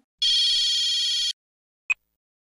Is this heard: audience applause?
no